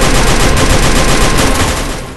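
Loud, rapid automatic gunfire from a battle royale style shooter video game, a dense continuous burst of shots lasting about two seconds and tapering slightly at the end.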